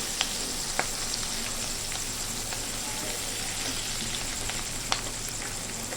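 Onion and capsicum fry steadily in a pan, giving a constant close sizzle with a few sharp pops and crackles and no talk over it.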